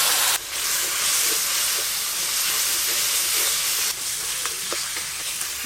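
Tomatoes frying in a pan with turmeric, chilli, cumin and coriander powders and a splash of water give off a loud, steady steamy sizzle, with a sharp burst at the start and small pops near the end, no talking.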